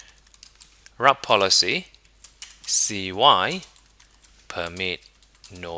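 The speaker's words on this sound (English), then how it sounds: "I'm going to retype route policy CY" Keys on a computer keyboard clatter in quick bursts of typing while someone talks over them, the clicks crisp and close.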